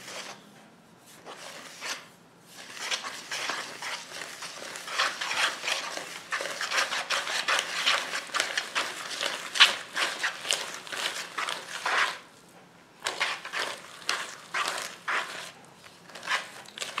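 Beaten eggs and melted butter being mixed in a bowl for chocolate crêpe batter, giving a steady run of quick scraping and tapping strokes at close range, with a few brief pauses.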